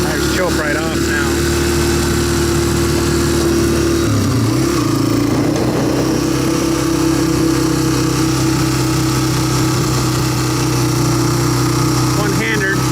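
A Suzuki DR650 or Honda CRF150 motorcycle engine runs loud and close throughout, shifting pitch briefly around four seconds, while a person talks over it.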